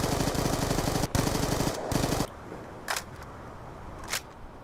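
Rapid bursts of Vector SMG fire in a video game rattle out loud and fast, then cut off, followed by a couple of quieter, isolated sharp reports.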